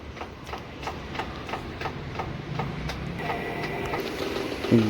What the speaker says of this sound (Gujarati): તો જો અહીંયા ગોળ જેટલું ફરશે ને એટલું પાણી ખેંચીને બહાર કાઢશે આ જગ્યાએ